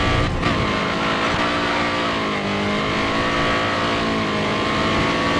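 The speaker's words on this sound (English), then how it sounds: "listen to that engine rev." Race car engine in the video game GRID Autosport revving hard and continuously, a loud buzzing whine that climbs and dips in pitch with brief tire noise.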